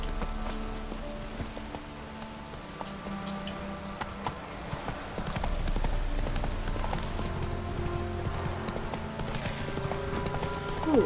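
Hooves of the horse Roach clip-clopping in The Witcher 3, a steady rhythmic trot under rain falling on surfaces, close and continuous.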